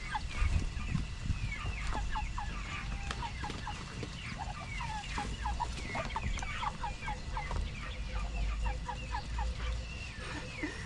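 Chickens clucking in a backyard garden pen, a steady stream of short repeated calls from several birds layered over a low rumble, continuing throughout at moderate loudness with no talking.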